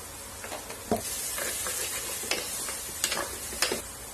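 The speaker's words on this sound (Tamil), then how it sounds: "தக்காளியும் நல்லா சாஃப்டா மேஷ் ஆக வரைக்கும் நம்ம இதை வதக்கிக்க போறோம்." Tomatoes sauté in a pan for an apple gourd curry, a steady close sizzle broken by occasional stirring scrapes and clicks.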